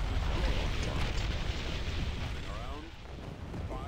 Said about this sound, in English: The sound of their ships going pop is beautiful.